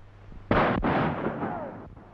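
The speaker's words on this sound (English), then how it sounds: "I'm going to take a shot at him." A single loud gunshot from a 1934 western film, fired at a rider, cracks sharply at close range and then trails off in a long booming echo lasting over a second.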